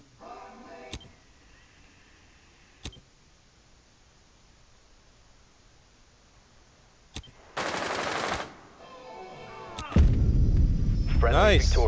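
Gunfire in Rainbow Six Siege: a few sharp isolated shots spaced apart, then a sustained burst and loud rapid firing at the end, with game noise and some talk.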